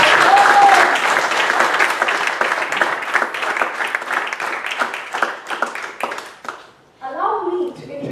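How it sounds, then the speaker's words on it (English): An audience at an international speech contest gives loud, close applause that gradually tapers and stops, after which a voice begins speaking. "Can the audience please give him a big round of applause?"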